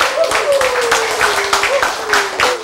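Audience clapping in a lecture hall, with brisk applause of many hands under a speaker's voice that runs throughout.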